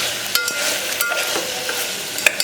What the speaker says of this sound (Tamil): நல்லா ஃப்ரை பண்ணுங்க. 2 மினிட்ஸ் நல்லா வதக்கணும்.